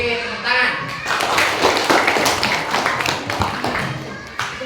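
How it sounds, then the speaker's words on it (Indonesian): Students in a classroom lesson give a brief round of clapping, quick uneven hand claps with voices talking over them, at a close, moderately loud level. "beri tepuk tangan"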